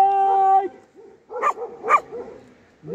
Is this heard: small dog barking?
yes